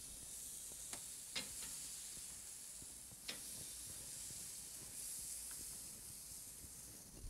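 Beef short ribs sizzle over a grill in a steady, soft hiss, broken by a few faint pops and crackles, with no one talking.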